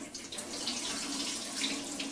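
Zucchini being washed under a running kitchen faucet, a steady close hiss of water streaming into a sink that holds evenly for the whole stretch.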